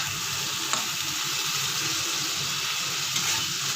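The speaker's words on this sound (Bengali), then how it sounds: "এবার এগুলো দিয়ে ভালো করে একটু কষিয়ে নেব 10 মিনিট।" Spices and tomatoes frying in a pan, a steady close hiss and sizzle with faint stirring clicks, no talking.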